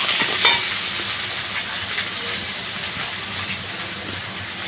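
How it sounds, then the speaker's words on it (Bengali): Steady loud sizzle and bubbling of water poured into a hot pan while cooking papaya kofta curry, close and continuous with no voices. "এবারে আমি এটার মধ্যে একটু জল দিয়ে দিলাম।"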